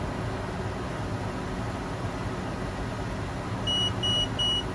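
A farm bale wrapper drones steadily with a broad hiss, then three high, evenly spaced electronic beeps sound near the end as wrapping finishes.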